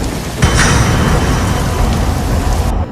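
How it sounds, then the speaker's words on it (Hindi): Heavy rain pours steadily in a thunderstorm with strong, uncontrollable wind, a dense, loud wash that swells sharply after a brief quieter start and rumbles low throughout. "बारिश होने लगी। हवा की रफ्तार भी बेकाबू हो गई।"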